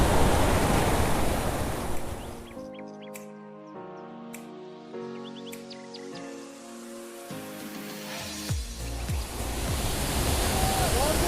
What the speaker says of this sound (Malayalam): ഇവിടെ നിന്നുള്ള ഒരു വെള്ളം വീഴുന്ന ഒരു കാഴ്ചയാണ് ഈ കാണുന്നത്